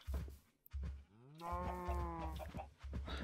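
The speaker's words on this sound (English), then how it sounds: "we'll lead the cows in this side" Minecraft cows mooing, a long drawn-out moo in the middle with shorter lowing calls around it, close and clear with no talking.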